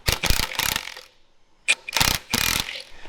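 Ratchet wrench tightening bolts on an axle bearing assembly of an off-road bread van, loud close clicking strokes in several bursts separated by short pauses.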